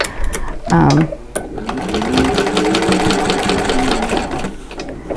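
A sewing machine stitches slowly through thick layers of fabric for a catch-all caddy, a loud close mechanical whir with rapid rhythmic ticking that runs nearly throughout, and a voice speaks over it.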